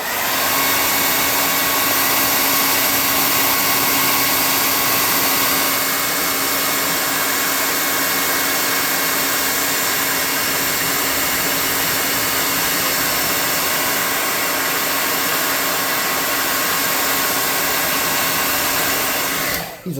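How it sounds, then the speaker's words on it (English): A hot air gun blows steadily and loudly at close range for about twenty seconds, drying a freshly painted tabletop miniature, its even whooshing hiss unbroken until it cuts off at the end. "Now I'm going to get my hot air gun, dry him off"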